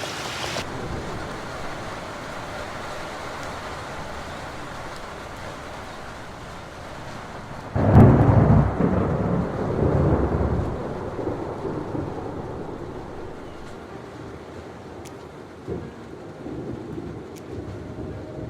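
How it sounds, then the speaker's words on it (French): Nighttime thunderstorm with steady rain falling throughout, broken by a loud rolling thunderclap midway that rumbles on for a few seconds before fading back into the hiss of rain. "Fin de la journée, nuit noire, pluie, orage, on voit rien."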